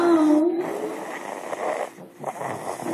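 A baby snores close to the microphone with soft, breathy, rasping snores over a few seconds in an otherwise quiet room.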